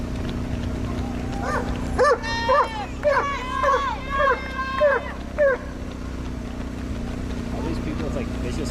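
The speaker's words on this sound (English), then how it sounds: "All these people with like vicious attack dogs on the course today." Several dogs bark in short bursts at a marathon course, loud and near, over a constant low engine-like hum. Speech is faint underneath.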